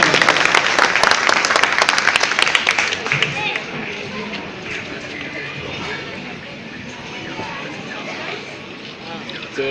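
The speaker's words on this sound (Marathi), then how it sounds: "जोरदार टाळ्या साहेबांसाठी." Audience claps after a speech at a Dr Babasaheb Ambedkar Jayanti gathering in Kalyan; dense, loud applause in the first few seconds fades to scattered claps and crowd murmur under an announcer's voice.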